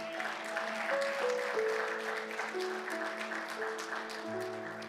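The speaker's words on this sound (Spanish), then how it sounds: "Un aplauso a nuestro Señor." Church congregation applauding during worship, a steady wash of clapping spread across the room with sustained organ or keyboard tones underneath.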